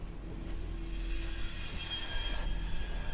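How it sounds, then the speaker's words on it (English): Edgar Thomson Works steel mill in Braddock, Pennsylvania, heard as a continuous industrial roar with high metallic squeals and rail-like screeching over a low rumble, steady and fairly loud throughout; no talking. "What you hear are the sounds of the Edgar Thompson Works in Braddock, Pennsylvania, where David lives."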